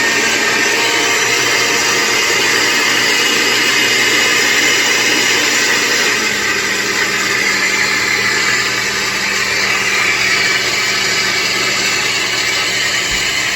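A blender whirs at full speed while it purees carrot soup, a loud, steady, dense roar that runs unbroken for the whole stretch.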